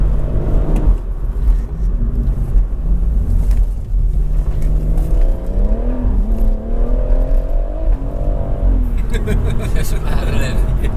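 A JB4-tuned BMW M140i without a limited-slip differential accelerates hard with its wheels spinning, a loud rising engine drone heard from inside the car while people talk over it.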